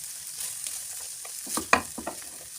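Carrots and cabbage stir-fried in a hot pan for chicken chowmein, a soft steady sizzle with scraping utensil strokes and a sharp clack near the end, close up and without speech.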